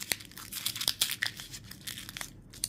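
Black paper being rolled up for a papercraft shotgun gives off rapid crinkling and crumpling rustles in irregular bursts, close up with no talking.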